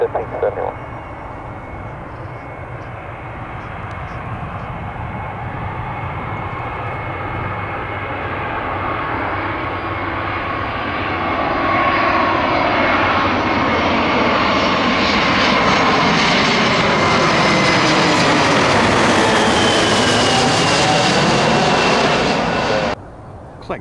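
A plane landing at Tampa International Airport roars close and loud, its engine noise swelling and shifting in pitch as it passes, with air traffic control radio chatter running underneath.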